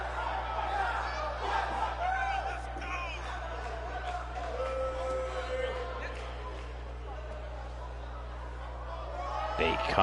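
A large crowd roars and cheers continuously at a distance, a dense wash of voices and whoops with a steady low hum underneath.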